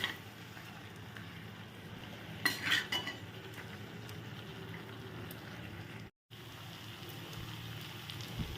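Potatoes with poppy seed paste frying and being stirred in a pan outdoors, quiet clinks and scrapes of a utensil over a low steady sizzle, with a brief cluster of louder clatter.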